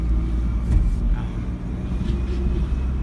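A Toyota Celica on its first drive through a residential neighborhood, its engine a steady low rumble with road noise, heard from inside the car throughout.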